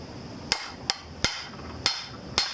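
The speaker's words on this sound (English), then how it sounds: "you can put it in a vise and give it a couple of hits with a hammer" A hammer strikes a snowblower shear bolt collar held in a vise, giving five sharp, loud metallic hits spaced at a steady, unhurried rhythm. Each hit is followed by a brief ringing decay, and no one talks.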